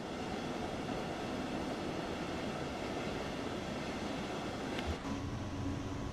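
In the train simulation game Train Sim World 2, a train rumbles steadily as heard from outside on the Riesa–Dresden–Meissen branch, a continuous loud rolling roar with a brief clank near the end.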